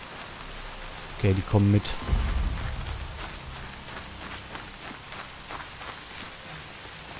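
Rain in the video game Horizon Zero Dawn hisses as a steady, soft wash throughout, with a few brief thuds and footstep-like taps early on and someone speaking German briefly over it.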